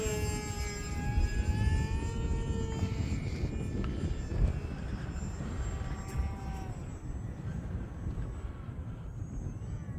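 HobbyZone Aeroscout RC airplane flying on a windy winter day, its small motor whining steadily with rising and falling pitch as it passes, wind rumbling continuously underneath.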